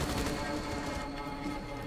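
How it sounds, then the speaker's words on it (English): Rapid gunfire in the game Rainbow Six Siege, a dense burst of shots that holds steady and fairly loud for under two seconds with no talk over it. "Max, those were some totally good shots, bro."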